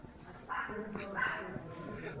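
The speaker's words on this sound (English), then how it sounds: "Whenever we come to Haworth, there's always yapping dogs." Small dogs yap and bark in short bursts nearby in the village of Haworth, mixed with outdoor background noise and some voices.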